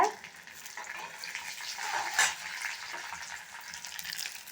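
Halved green chillies frying with reddened moong dal in a pan, a soft hissing sizzle with faint scraping and a brief louder crackle midway, quiet and close with no talk.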